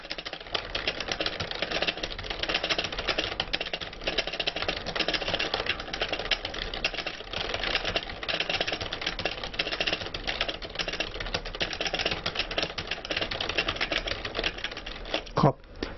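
A computer keyboard clatters with fast, continuous typing at close range, keys tapping in dense irregular bursts for the whole stretch.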